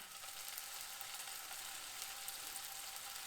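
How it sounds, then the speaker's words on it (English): Beef chunks fry in a batch in olive oil in a pan, giving a steady, dense sizzle that holds evenly throughout with no talking. "Right, I'll do all these, I'll fry all these up just to get them"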